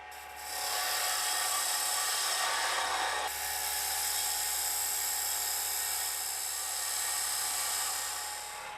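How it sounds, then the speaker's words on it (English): A box cutter on a wood lathe shapes a spinning wooden lid with a continuous, close, high-pitched scraping hiss. The hiss shifts in tone partway through and holds steady to the end. "Using the box cutter again, we will now shape the lid and remove as much of the tenon as safely possible."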